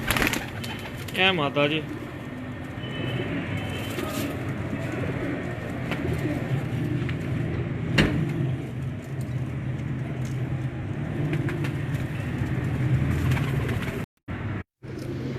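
Kamagar pigeons, a female among them, cooing in a breeder's loft amid steady background noise, with a short voice speaking early on and a brief break near the end.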